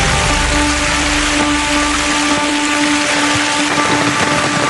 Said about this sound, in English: If the rain persists, Matt and Josh's trip could be over before it's begun